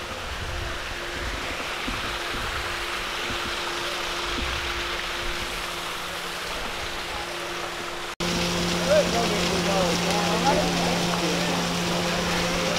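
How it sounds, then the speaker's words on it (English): A small waterfall at an outdoor art festival in Laguna Beach, California, gives off a steady, continuous rush of falling water. The level jumps abruptly partway through, and faint voices sit in the background. "Nice little waterfall"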